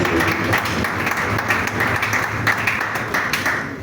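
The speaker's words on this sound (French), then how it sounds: "je demande à tous les députés de pouvoir applaudir pour le président." Deputies of a provincial assembly applaud their president, a steady dense wash of clapping that fills the hall for the whole stretch without letting up.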